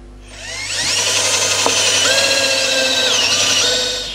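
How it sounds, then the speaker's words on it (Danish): A power drill bores holes during a craft build, a loud, steady motor whine that winds up, holds for several seconds with shifting pitch, then spins down, with no talking. "så borer vi lige hullerne"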